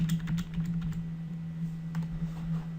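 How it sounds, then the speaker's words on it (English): Keys on a computer keyboard click in short runs as Ctrl and arrow keys are tapped during image editing, light and close over a steady low electrical hum. "I'm moving the layers by pressing Ctrl and using the arrow keys on my keyboard."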